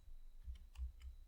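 Typing on a computer keyboard during a JavaScript coding session, a few soft keystrokes tapped quietly over a low background hum, with no one speaking.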